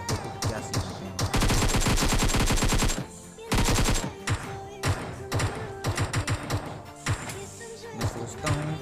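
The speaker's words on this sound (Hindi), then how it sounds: "लूटने के बाद पीछे से बोट फायर आता है।" Video game gunfire from a bot, loud close bursts of rapid automatic shots with short gaps, the longest burst running about two seconds before sparser single shots.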